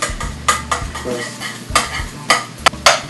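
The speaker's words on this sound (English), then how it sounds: "Now just break the egg and let it cook." An egg frying in a pan for Pad See Ew, with steady sizzling broken by sharp scrapes and knocks of a utensil stirring against the pan, close and fairly loud, with no voices.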